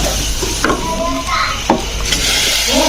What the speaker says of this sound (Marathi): थोडा वेळ जरा डाळ परतून झाली व्यवस्थित की मग तांदूळ घालूया आपण याच्यात